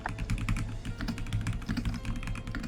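Fast typing on a computer keyboard: steady, dense clatter of key presses, close and moderately loud, with no voices over it.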